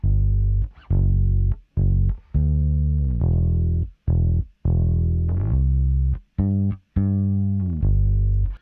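Bass riff played by the AI session bass player in Logic Pro 11, a run of sustained and clipped notes with short gaps between phrases, steady and upfront with no talking.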